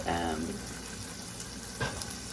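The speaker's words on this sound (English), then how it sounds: "it's starting to sizzle" Meat sizzling as it fries and browns in a pan, a steady crackling hiss with a short stir or clatter near the end.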